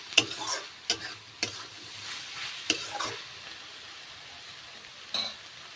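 Cabbage and potato curry being stirred in a pan, with several sharp spoon clicks against the metal and a soft sizzle of cooking underneath. No one speaks.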